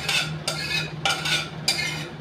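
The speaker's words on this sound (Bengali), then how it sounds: "দেখো আমের চাটনিটা হয়ে গেছে, আমি পাত্রের মধ্যে ঢেলে নিচ্ছি।" Cooked mango chutney being poured and scraped out of a pan into a container: four distinct, evenly spaced scraping strokes of a spoon, close and fairly soft, with no talk.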